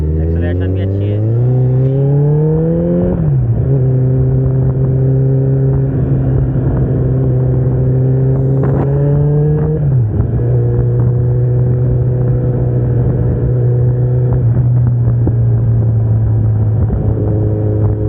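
A 2013 Kawasaki Ninja ZX14R fitted with a Two Brothers exhaust accelerates hard, its loud engine note climbing through gears with distinct drops at each shift, running continuously close to the microphone.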